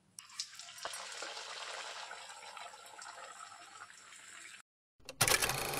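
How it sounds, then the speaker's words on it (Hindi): Potato samosa rolls deep-frying in hot oil in a home kitchen, a steady close bubbling sizzle that cuts out briefly near the end before a louder burst of crackling returns. "इसी तरह अब मैं सारी चीज़ें ऐसे ही फ्राई करके ले लेती हूँ।"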